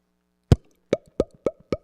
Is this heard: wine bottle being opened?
yes